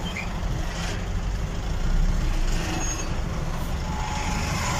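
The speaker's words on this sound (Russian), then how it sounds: "А вот они все поехали, грузовики." Trucks pull away in a traffic jam, a low engine rumble that swells for a moment mid-clip. Faint higher beeps and hisses sound in the background, and no one speaks.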